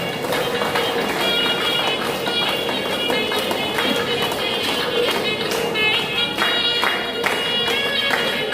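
Audience at a celebration clapping loudly and continuously, a thick, even roar of many hands with scattered voices underneath, sustained and close throughout.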